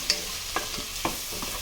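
Onions sizzle steadily as they sauté in butter in a pan while a spoon stirs and scrapes in a few soft, irregular knocks.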